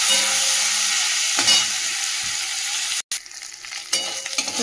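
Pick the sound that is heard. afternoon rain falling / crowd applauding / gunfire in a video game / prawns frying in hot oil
prawns frying in hot oil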